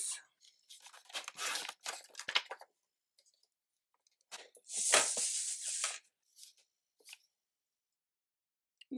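Scissors snip through paper cut to size for a Dollar Tree three-section note pad cover, with close, crisp bursts of cutting early on and again midway, separated by near silence.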